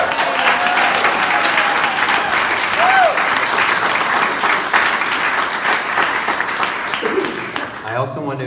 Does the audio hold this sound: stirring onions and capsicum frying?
no